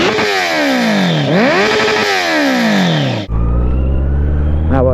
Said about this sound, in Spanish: es un sonido que tú, el que sabe de moto, donde te escuche va a saber qué moto es o qué motor es